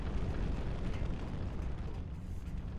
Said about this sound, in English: them explosions keep making me jump.